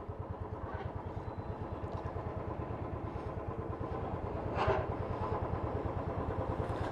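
A motorcycle engine idles and runs at low speed with a fast, even pulsing throb as the bike is turned around near a harbour with big fishing trawlers, with one brief louder clatter midway.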